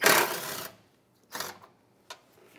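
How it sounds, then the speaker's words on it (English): A 12 millimeter socket wrench loosens a bolt while an A/C condenser is removed from a 2011-2016 Hyundai Elantra. Three separate close ratcheting bursts, the first longest and loudest, with short pauses between them. "With a 12 millimeter socket, we're gonna take out this bolt."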